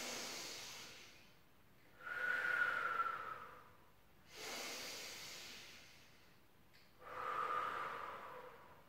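Slow, audible breaths during a gentle pilates flow class: two long hissing inhalations through the nose, each followed by a softer exhale, close and unhurried with no talking.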